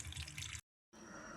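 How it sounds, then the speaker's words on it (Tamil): Thin coconut milk pours into a jackfruit curry as a soft liquid splash and trickle, broken by a brief silent cut, then a faint steady flow. "இப்போ நாங்கள் தண்ணிப்பாலையும் சேர்த்து நல்லா அவிய விடுவோம்."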